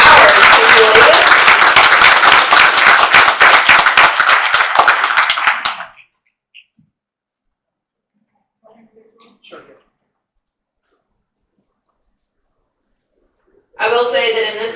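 Loud audience applause at a community luncheon, a thick burst of many hands clapping that lasts about six seconds and then cuts off, leaving near silence with a few faint knocks before a voice resumes at the end.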